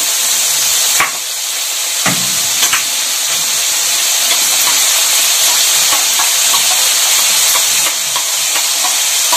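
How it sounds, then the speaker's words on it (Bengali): Potatoes with spices sautéing for aloo dum, a loud continuous sizzle and frying hiss with occasional scraping stirs of a spoon against the pan throughout. "ভালো করে কষাতে হবে"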